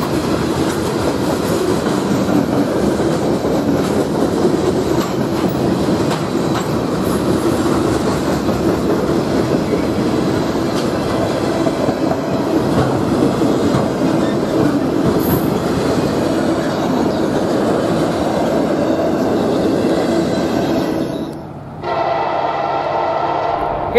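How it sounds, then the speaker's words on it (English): A westbound intermodal freight train rolls past in Chesterton, Indiana, a steady loud rumble with clattering wheels that holds for over twenty seconds before abruptly dropping away near the end. "Here comes a westbound intermodal."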